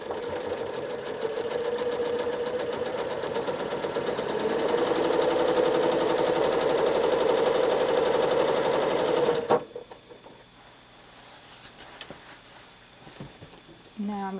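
Sewing machine free-motion stitching wiggly lines across a quilt, a fast rhythmic close clatter that runs steadily for about nine seconds and then stops abruptly, leaving quieter handling noises.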